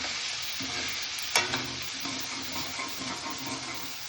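Mushroom and pea masala sizzles steadily in a pan as a spoon stirs it, with a soft scrape and a brief clatter midway, close and even, no voices.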